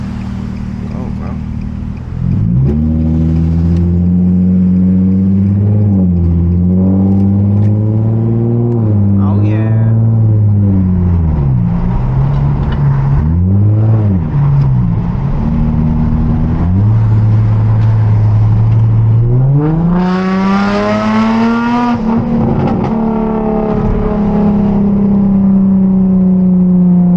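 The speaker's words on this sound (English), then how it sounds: "Oh, this car sounds so good." A car engine accelerates and revs repeatedly while racing a Subaru on public roads, heard from inside a Nissan 350z. Engine pitch climbs and drops through gear changes, loud and droning throughout, with a voice talking over it.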